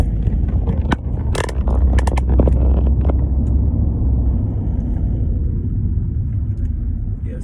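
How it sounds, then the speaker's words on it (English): Car interior while creeping through heavy traffic, a steady low engine and road rumble filling the background, with a few brief clicks and scrapes early on. "I just want to do a lesson while I'm stuck in traffic."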